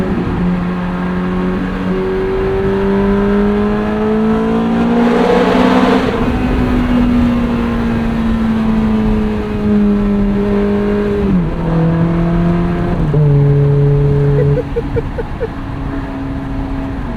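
A 2008 Ferrari F430 Spider's V8 revs hard on a sunset drive, a loud, close, rising howl that climbs, dips with each gear change and climbs again, with a brief shift crackle near the end.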